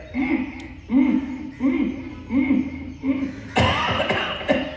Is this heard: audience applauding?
no